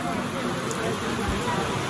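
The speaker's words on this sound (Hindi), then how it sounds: "बारिश एक घंटे से लगातार बारिश हो रही है" Heavy rain pours down in a dense, continuous hiss close by in Mussoorie, Uttarakhand, with faint murmuring voices mixed in.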